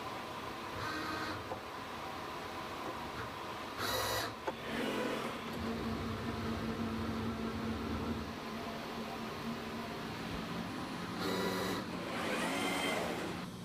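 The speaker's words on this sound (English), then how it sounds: "the mixture of DNA and master mix is transferred to a 384-well plate using an automated liquid handling robot" An automated liquid handling robot transfers a DNA and master mix solution into a 384-well plate, giving a steady mechanical hum with short bursts of motor whirring at intervals, alone and fairly loud throughout.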